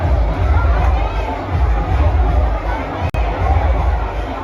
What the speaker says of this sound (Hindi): यहाँ पे तो बहुत भीड़ है यार